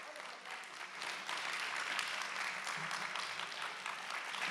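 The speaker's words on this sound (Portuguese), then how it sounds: "uma salva de palmas para os nossos astros!" A hypnosis show audience gives a round of applause for the participants, dense, even clapping that swells slightly after the first second and holds steady to the end, heard from within the room at moderate level.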